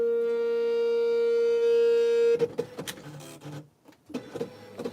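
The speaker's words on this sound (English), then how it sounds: "It just moves the carriage back and forth really, really fast." An Apple ImageWriter II printer running its carriage test: a steady electronic whine gives way to rapid mechanical buzzing and rattling as the carriage shuttles back and forth, close and fairly loud.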